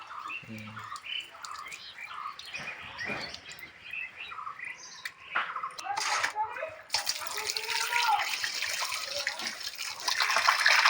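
Fish being rinsed with salt in water by hand, with splashing and running-tap sounds building louder toward the end, birds chirping in the background and someone talking early on.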